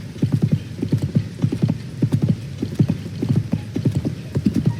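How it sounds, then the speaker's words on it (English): A huge horse without stamina or extra power gallops with Link in Zelda: Tears of the Kingdom, its hooves clopping in a steady, rolling rhythm of close, loud beats. "And now we ride west to bring the horse over to that horrible guy."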